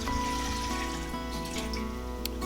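Water for elderberry gummies, four cups, is poured into a cooking pan, giving a quiet, steady trickle over a low background hum for a couple of seconds.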